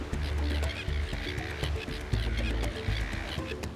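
Seabirds call on a remote, shelterless Great Barrier Reef cay: a dense colony chorus of harsh, honking cries over a steady roar of wind or surf, loud and continuous with no talk.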